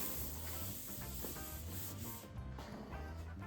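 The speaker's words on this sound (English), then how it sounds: "as you're wet sanding and wiping down and wet sanding and wiping down" Steady wet sanding of car paint, a continuous close abrasive swish with occasional squeaks, no voices.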